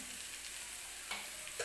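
Potato bhaji being stirred in a pan, a quiet constant frying hiss with a couple of soft spatula scrapes toward the end.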